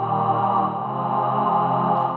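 A sustained synthesizer pad drones evenly with a nasal, vowel-like tone, holding steady throughout with a muffled top end.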